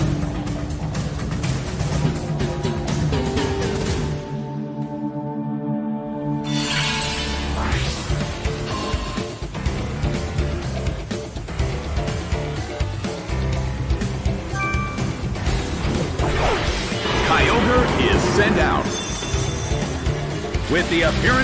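A smashing blow attack lands in the Pokémon Battle Revolution video game with a sharp crashing, shattering impact burst over ongoing battle music, and an announcer's voice is heard in the mix.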